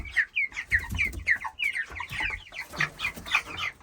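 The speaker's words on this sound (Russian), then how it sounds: "Ну, вот такие у нас птички." Young chickens, some larger and probably cockerels about 27 days old, cluck and cheep steadily in a rural village coop, a dense close chorus of short repeated calls with no talk.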